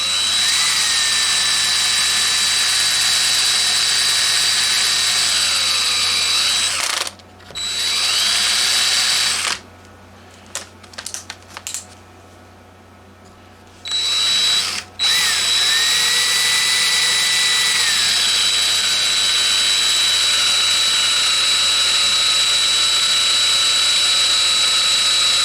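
Power drill with a regular wood bit boring into a carbon fiber guitar: loud high whining runs near the mic in two long bursts, broken in the middle by short grinding stop-start pulses and quieter gaps.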